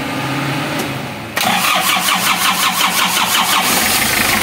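Nissan Urvan van engine starting after a cylinder head gasket replacement: a brief cranking whirr, then the engine catches and settles into a loud, close, throbbing idle.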